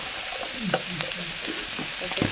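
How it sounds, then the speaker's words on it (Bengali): Dried fish and vegetables stir-fried in oil in a pan, giving a steady close sizzle broken by a few quick scraping stirs, with no voices. "তেল ছড়িয়ে নাড়ানো হচ্ছে, ভালো করে লাল লাল করে ভেজে নেওয়া হচ্ছে"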